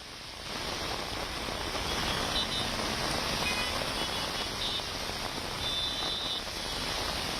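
Heavy rain pours steadily in Bengaluru's Electronic City area, a dense continuous hiss that holds loud and even after a brief quieter opening.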